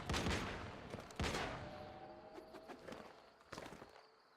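SMG gunfire in the video game Once Human, a few sharp bursts that fade between shots, with faint clicks and handling noises in the gaps.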